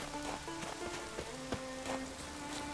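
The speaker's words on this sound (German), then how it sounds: "Vielleicht haben wir mal Regen gebraucht." Steady rain hisses across the rocky isles of Skellige in The Witcher 3: Wild Hunt, a continuous close patter with faint tonal game ambience running beneath and no one speaking.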